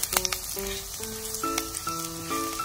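Garlic and scallions fry in oil in a small electric hot pot, a soft continuous sizzle with faint crackles under steady tonal background music.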